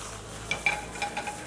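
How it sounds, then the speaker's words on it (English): Seared rabbit pieces rolled back and forth in a frying pan give a soft, close scraping with a few light clicks and a quiet sizzle underneath, no voices. "to get a nice even cook, we're just going to roll them backwards and forwards in the pan"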